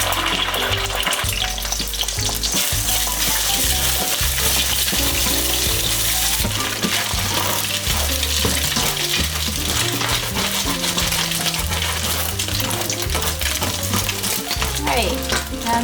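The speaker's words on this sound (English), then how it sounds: "I'm going to heat it up till the oil is very hot, and we're going to put in the eggs." Eggs frying in very hot oil for fried rice, a loud, dense, continuous sizzle and crackle with scattered pops, close to the pan, with no one talking.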